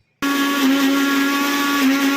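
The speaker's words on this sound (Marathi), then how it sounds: "मी इथे मिक्सर लावून घेते." A kitchen mixer grinder starts abruptly and grinds chillies for a fish curry, a loud steady motor whine with a strong tonal hum running continuously after the switch-on.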